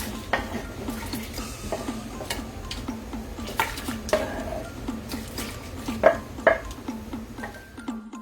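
Pieces of years-old buffalo skin go into a pressure cooker, with a steady run of light clinks and scrapes against the metal pot and two sharper knocks near the end; no voices.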